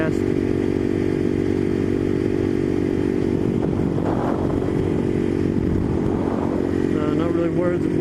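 A motorcycle carries two riders along a mountain road, its engine drone steady and close, with wind buffeting and the engine note rising and falling as it works under the load.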